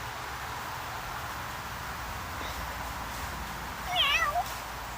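A cat gives a short, rising meow near the end of a quiet stretch of faint hiss, clear and fairly close.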